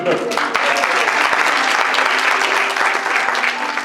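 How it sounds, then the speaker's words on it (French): An audience at a school graduation gown and yearbook ceremony breaks into steady, dense applause that holds for several seconds, with a few voices faintly underneath. "Ah oui, on peut applaudir."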